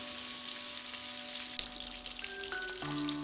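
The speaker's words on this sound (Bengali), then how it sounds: "আমার আরেক পাশ মাছ ভাজা হয়ে গেলে আমি রান্নাতে চলে যাব" Hilsa fish fries in hot oil, a soft continuous sizzle and crackle at close range, with faint tonal hum in the background and no talk.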